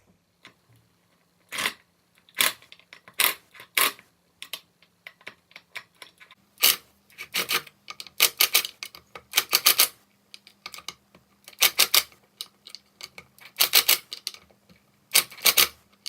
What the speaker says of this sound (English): So I've got the impact gun here and I'm just going to start loosening the back of the wheels.